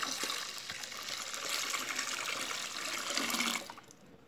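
About three litres of liquid for homemade fabric softener pour steadily into a container, a continuous close rushing splash that holds for roughly three and a half seconds, then cuts off.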